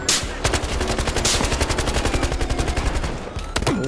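Automatic gunfire in the Battlefield Hardline video game, rapid repeated shots in long bursts, loud and close, with brief pauses between volleys.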